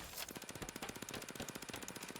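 Automatic gunfire in Rainbow Six Siege rattles in a fast, even stream of shots, fairly faint and steady for a couple of seconds.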